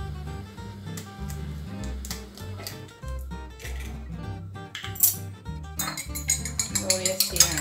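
An egg is mixed into a cheese filling for stuffed yuca in a bowl, giving irregular clinks and scrapes of a utensil against the dish that grow busier toward the end, with scattered faint background noise.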